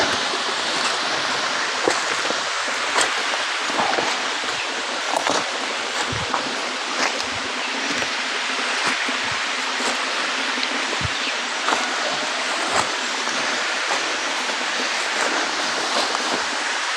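Floodwater pouring down a waterfall and rushing across a farm, a steady, dense roar of flowing water that fills the scene close by without pause.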